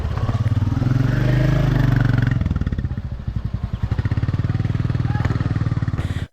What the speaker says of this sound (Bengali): এই রাস্তাগুলোতে বাইক চালানোর আলাদাই মজা আছে